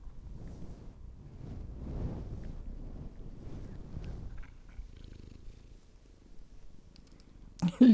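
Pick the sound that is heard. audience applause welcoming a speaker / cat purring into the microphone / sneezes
cat purring into the microphone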